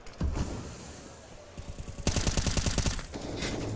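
Rapid automatic gunfire in a CS:GO match on the Vertigo map, fired blind through a smoke, comes as a fast, loud burst of evenly spaced shots after a couple of isolated pops, with game ambience underneath.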